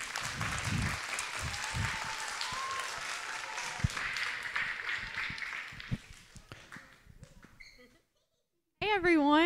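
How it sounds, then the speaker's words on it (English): Children applaud inside a school chapel, a dense burst of clapping filling the room for several seconds before fading into silence, then a voice picks up on the microphone. "we're going to give her a big applaud when I tell you who it is"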